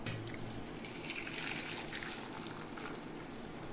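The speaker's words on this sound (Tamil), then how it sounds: "இப்போ இந்த தண்ணியை நான் எடுத்து ஊற்றுறேன்." Water drained from a rice steamer basket is poured out in a faint, steady splashing trickle that lasts a few seconds without talk.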